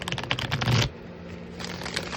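Tarot cards are shuffled by hand in a close, dense papery riffle for about a second, then a softer, sparser rustle of cards follows.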